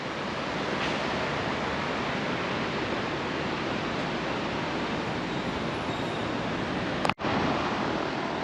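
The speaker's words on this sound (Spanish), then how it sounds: "Este es el río Tomebamba, que recorre la ciudad." The Tomebamba river flows through the city of Cuenca, Ecuador, a dense, steady rushing roar of water close by that holds constant throughout, with a brief dropout near the end and no talk.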